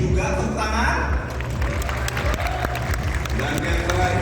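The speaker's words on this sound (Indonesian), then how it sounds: "Tepuk tangan." Audience applause at Idea Fest 2023, a steady wash of clapping and crowd noise with voices mixed throughout, loud and sustained across the whole stretch.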